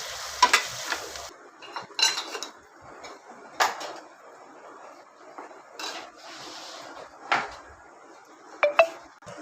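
Chilli masala powder stirred and sautéed in a pan over a low gas flame for a green bean curry, with soft sizzling under repeated scrapes and clinks of a spoon against the pan.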